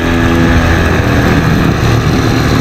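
A motor scooter ridden on the road in Kuwait: a loud, close, continuous engine drone mixed with wind rush, holding steady throughout with no talking.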